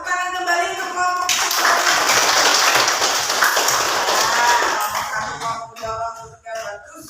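A classroom group applauds in a burst of clapping mixed with some chatter, rising after a spoken lead-in and fading into scattered claps and voices toward the end.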